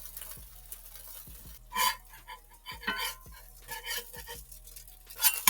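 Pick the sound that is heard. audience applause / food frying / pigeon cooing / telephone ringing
food frying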